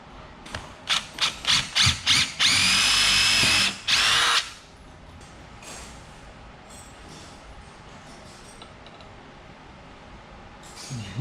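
A power tool tightens parts of a spiral stair assembly, first in a series of short rapid bursts, then a long loud whir and one more burst, close by, before fading to quiet room noise.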